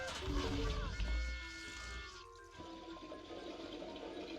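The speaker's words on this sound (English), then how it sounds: "The draining water is very cool." Water drains and gurgles in a Pikmin 2 video game level, a loud rushing swirl that fades partway through, with tonal game sounds layered on top.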